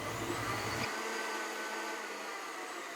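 An electric mixer blends salsa into a cheesecake batter of pepper jack and fat-free cheddar cheese, a steady motor whir that drops its low hum within the first second while a thinner drone carries on.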